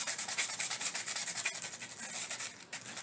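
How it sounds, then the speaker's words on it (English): Sandpaper rubs steadily back and forth over a Dollar Tree craft piece in a farmhouse-style home decor project, a close, continuous scratchy hiss with a quick rhythmic stroke pattern and no talking. "And just sand it down a little."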